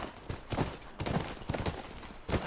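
Horse hooves gallop in a rapid, rhythmic clip-clop in the video game The Last of Us, close and steady over a low background rumble.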